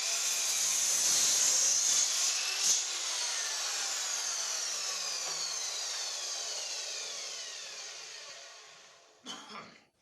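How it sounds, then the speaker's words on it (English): A hand saw cuts through a piece of wood for a LEGO mini-figure display, the rasping strokes steady and close for most of the stretch before fading out, followed by a brief clatter at the end. "cut it a little bit long, and then I can do a final trim to get a nice square clean edge"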